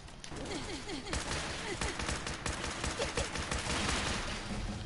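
Rapid bursts of gunfire from Fallout 4 crackle through most of the stretch, fairly loud and dense, with in-game voice sounds and a player's speech mixed underneath.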